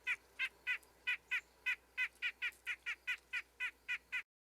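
A white-breasted nuthatch gives a steady series of about sixteen short, evenly spaced nasal calls, clear and fairly close, with no other sounds.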